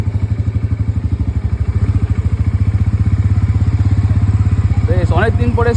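A Bajaj Pulsar NS400Z sports motorcycle engine runs close and loud with a fast, even thrumming pulse, steady throughout, with a faint voice briefly audible near the end.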